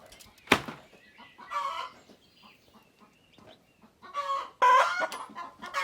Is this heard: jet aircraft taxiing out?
no